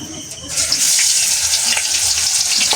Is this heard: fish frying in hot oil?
yes